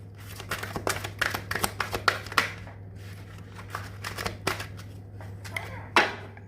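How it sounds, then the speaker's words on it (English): Tarot cards are shuffled by hand in quick bursts of crisp riffling and slapping, close and fairly loud, with short pauses between runs over a faint steady hum. "So I'm going to shuffle and see what comes out."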